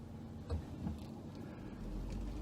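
A car passes by on a road, a fairly quiet, steady motor hum with a couple of soft swells as it goes by, and no voices.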